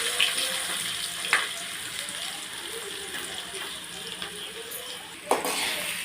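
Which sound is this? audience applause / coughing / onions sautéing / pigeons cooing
onions sautéing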